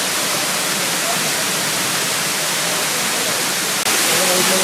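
Nam Mueng Waterfall on Koh Samui, a roughly ten-metre tropical cascade, roars as a steady, dense broadband rush that fills the whole stretch, loud and continuous, with faint voices of visitors nearby.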